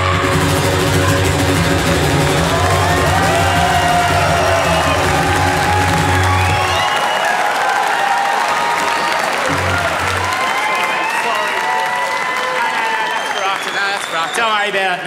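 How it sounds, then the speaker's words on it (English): A theatre audience at a live comedy show bursts into loud, sustained applause mixed with cheering and whoops, a dense roar of clapping filling the room throughout. "Don't clap."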